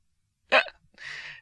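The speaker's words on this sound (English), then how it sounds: "A hiccup is basically a very short inhalation." A single sharp hiccup, a short, abrupt catch of breath, followed by a softer breathy exhale, close and clear against silence.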